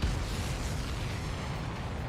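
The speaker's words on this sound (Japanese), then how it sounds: "ボーンとか言って爆発してるんですけど" An explosion in the video game Ace Combat 7 gives a dense, sustained roaring blast that fills the whole short stretch at a steady level.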